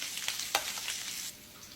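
A stick of butter sizzling on low heat in a pan with crushed garlic, rosemary, thyme and orange peel, a steady close crackling fry with a few sharper pops, easing off near the end.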